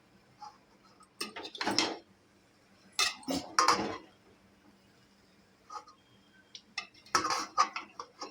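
Hot cooked pulao rice is mixed in a pot with a spoon, giving soft scraping and light metal clinks in short bursts separated by quiet pauses.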